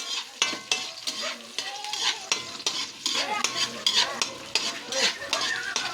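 Chili peppers sauté in a pan with coconut milk, sizzling and frying under repeated scraping stirs of a utensil against the pan, close and busy with irregular clinks.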